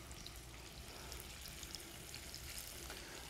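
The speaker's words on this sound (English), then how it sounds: "You hear the sizzle. The fat is nice and hot" A pork chop frying in hot fat in a kitchen, a faint but continuous crackling sizzle with scattered pops, heard alone without talk.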